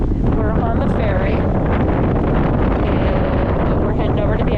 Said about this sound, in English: It's a little windy